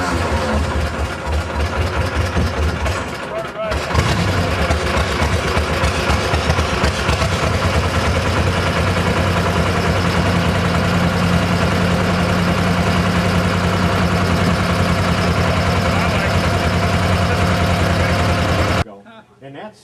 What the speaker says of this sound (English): Two-cylinder air-cooled Wisconsin.